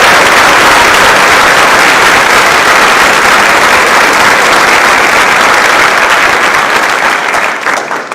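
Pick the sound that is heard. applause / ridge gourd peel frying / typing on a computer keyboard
applause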